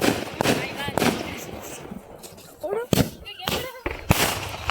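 Several sharp firecracker bangs go off at irregular intervals during Diwali, crackling and close by, with voices talking in the background.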